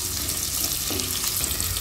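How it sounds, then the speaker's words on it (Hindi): Onions fry over a high flame in hot oil, giving a continuous close sizzle with a faint stir partway through, no talking. "अब हम हाई फ्लेम पे लाइट गोल्डन ब्राउन हुए तक प्याज पका लेंगे।"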